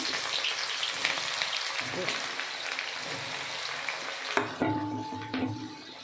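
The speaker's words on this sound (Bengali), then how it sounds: "তো এই কড়াইতে পেঁয়াজ দিয়ে দিলাম।" Onions sizzle and crackle in a hot wok, a steady hiss with some clinks of metal near the end, and a voice briefly heard.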